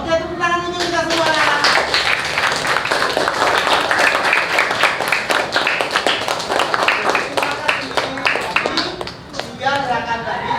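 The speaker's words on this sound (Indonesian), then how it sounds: "tepuk tangan untuk kita semua" Children clapping in a crowded primary school classroom, a long stretch of dense, continuous applause with voices mixed in throughout.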